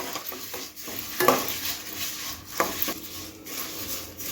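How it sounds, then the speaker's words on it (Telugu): Curry leaves, dried red chillies and turmeric being stirred in a frying tempering for tomato pickle: close, rhythmic scraping strokes of a spoon against the pan over a continuous sizzle, with no one talking. "కరివేపాకు వేసుకోవాలి. కొంచెం పసుపు వేసుకోవాలి. కలుపుకోవాలి."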